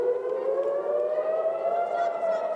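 An air raid siren during a rocket attack in Israel wails alone at a distance, its long tone rising slowly and holding steady.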